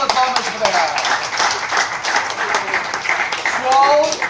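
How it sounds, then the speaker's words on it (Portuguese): Audience at a live comedy show clapping steadily for three performers, a sustained burst of applause throughout with some crowd noise and voices mixed in. "Uma salva de palmas para elas."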